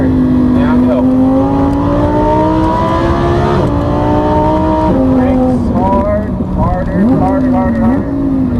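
A Lamborghini supercar on a cone course accelerates hard, its loud engine note rising and falling through several revs and gear changes, close to the microphone, with speech likely mixed in.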